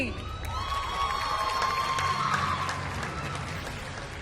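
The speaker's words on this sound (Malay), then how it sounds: "Tepukan sekali lagi." Sustained audience applause with some cheering at a prize presentation for a girls' performance category, as a winner receives a trophy and prizes; steady and moderately loud throughout, with a faint whistle-like tone partway through.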